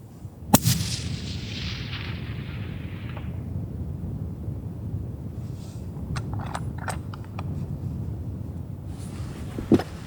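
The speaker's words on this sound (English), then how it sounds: "had to shoot a couple more times to finish him off" A hunting rifle fires at a caribou on the Alaskan tundra, one loud sharp report early followed by a long rolling echo, then a second shot near the end, with faint scattered clicks and rustles between.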